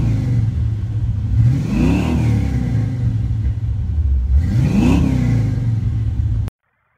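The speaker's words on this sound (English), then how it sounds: "it starts like, you just barely even twist the key and it goes" A car engine fitted with a battery of 1,080 cranking amps starts and idles with a deep rumble, rising in two loud revving swells before cutting off abruptly, close and without talk.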